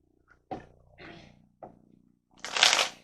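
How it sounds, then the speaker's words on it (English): Tarot cards are handled and drawn in a few short papery bursts of shuffling and sliding, ending in a louder brisk riffle, close and with no one talking. "So let's just grab one tarot card."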